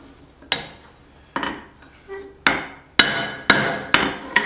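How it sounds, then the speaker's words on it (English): Steel being hammered on an anvil while forging a small cross peen hammer, smoothing out hammer marks: seven sharp ringing metallic strikes at uneven intervals, loud and close, with no talk. "Kind of getting some hammer marks out right now."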